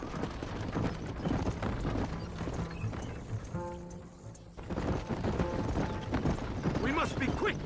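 Horse hooves clip-clop in a Western video game on a ride toward Mexico, a steady trotting patter under game ambience, pausing briefly near the middle before the beat resumes.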